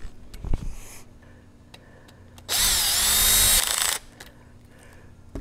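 A power drill tightens screws on a Malone Xpress scupper cart, one loud steady whirring run of about a second and a half, with faint handling knocks before and after.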